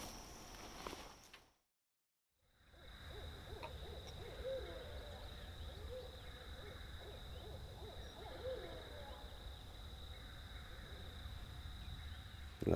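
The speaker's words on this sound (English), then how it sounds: "We got the real owls talking this morning." Real owls hoot at a distance on a Florida public-land morning during a turkey hunt, repeated calls over a steady insect and outdoor background, with a short drop to near silence early on.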